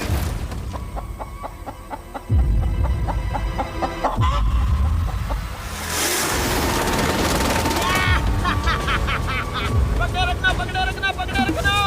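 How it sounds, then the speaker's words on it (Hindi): A chicken clucks amid a busy outdoor mix of voices, mechanical rattling and engine noise, with the bird's calls rising more clearly toward the end. "ओह, ये चिकन तो काफी शांत है।"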